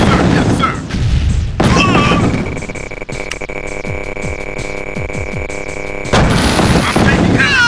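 Battle in the Tiberian Sun strategy game: dense gunfire and booming explosions, loud and continuous, layered with a steady electronic hum and clipped unit voice responses at the start and end.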